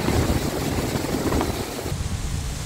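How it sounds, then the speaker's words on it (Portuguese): A steady, loud rotor drone fills the air, army helicopters on a training flight passing close overhead on the Rio Negro with a constant chopping roar. "Aqui os helicópteros do exército em treinamento, olha só."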